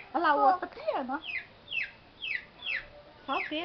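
Baby chicks peeping near a child at home, with a voice at first, then a run of thin, high, downward chirps repeated every half second or so, close by and fairly clear.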